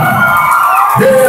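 A loud close crowd cheers and whoops at a rodeo queen crowning ceremony, with shouting voices and a voice on a microphone mixed into the dense roar.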